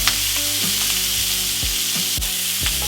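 Shrimp fry loudly in a pan with bacon bits and charred bacon drippings, a dense steady sizzle with occasional stirring knocks, close and with no voices.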